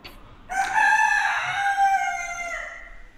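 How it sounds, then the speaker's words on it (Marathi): A rooster crows once, close and loud, a long drawn-out call that rises and then trails off over about two seconds against a quiet background. "अरे यार कोंबडा एवढा ओरडतो ना."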